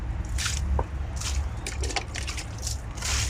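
Wild pak wan vegetable plants are watered, giving short, close bursts of spray with soft wet splatters and drips against a steady background.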